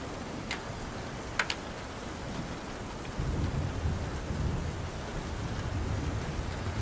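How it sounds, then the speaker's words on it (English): Torrential rain pours steadily during a thunderstorm, with a couple of sharp crackling ticks early on and the downpour growing heavier and louder partway through, with no voices. "more clouds appear, and there is a torrential downpour"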